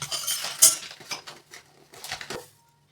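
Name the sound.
roasting flattened rice (aval) in a pan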